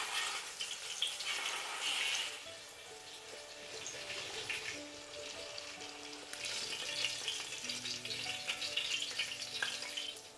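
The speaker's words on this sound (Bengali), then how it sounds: "এবার এই একই পদ্ধতিতে আমি বাকি মাছগুলোও ভেজে নিচ্ছি।" Pieces of katla fish fry in hot oil in a pan, a soft, steady sizzle with quiet crackles that swells and eases, heard close and without talk.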